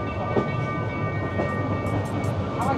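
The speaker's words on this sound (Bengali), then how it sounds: "আমাদের ট্রেন এই মুহূর্তে এসে পৌঁছালো কক্সবাজার স্টেশন" A passenger train pulls into Cox's Bazar station, a steady rumble of wheels and carriages with a constant mechanical hum, close and continuous, with faint higher squeals.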